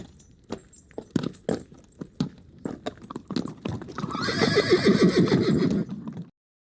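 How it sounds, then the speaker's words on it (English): Layered horse sound effects for an audiobook: a run of sharp clip-clop hoof strikes gives way to a loud, drawn-out whinny, all close and without talk. "You'll notice these different layers of horses sound quite effective together."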